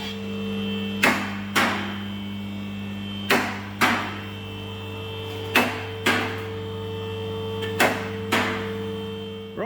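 A car lift raises a Fiat Punto Turbo GT with a steady motor hum, broken by evenly spaced pairs of sharp metallic clicks as it climbs.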